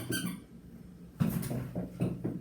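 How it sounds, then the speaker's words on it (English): A squeaky toy squeezed several times, a high shrill squeak at the start followed after a pause by a quick burst of four short squeaks, close but fairly soft. "What squeaky toy now?"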